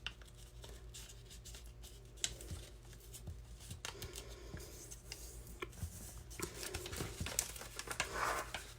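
Origami paper being folded into a flower, close crinkling, rustling and soft creasing sounds in irregular bursts, quiet with no talking.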